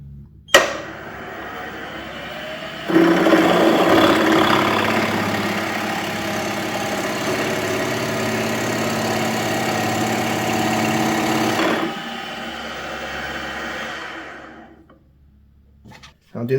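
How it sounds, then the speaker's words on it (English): Power drill countersinking holes in a chain stay jig attachment, a steady close motor whine with the bit cutting under load for about nine seconds, then spinning down to silence. "So I just need to countersink it a little deeper."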